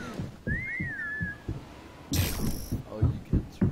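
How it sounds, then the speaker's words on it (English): A short, wavering melodic whistle rises and falls briefly amid thumping Fortnite Prop Hunt game sounds and a burst of noise, with some voices nearby. "Stop whistling!"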